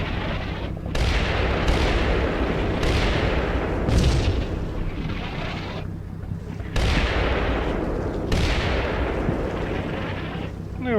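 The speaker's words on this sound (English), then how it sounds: "The artillery fire is actually getting stronger as more batteries are ranged in" Artillery fire in the Combat Mission wargame, a dense continuous barrage of booming blasts that rumble and overlap loudly throughout, with brief lulls between heavy volleys.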